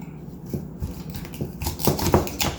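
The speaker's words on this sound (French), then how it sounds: "donner un coup bien important que tu aies un bon couteau comme pour passer à travers les os" A knife is forced through raw chicken bones at the thigh joint, giving dull cracking crunches and scraping cuts that build in loudness toward the end, close to the microphone.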